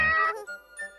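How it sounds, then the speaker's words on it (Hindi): A cartoon cat in a 3D animated Ninja Hattori episode gives one short, close meow that quickly fades into a faint soft tail. "बिल्ली, यहाँ आओ।"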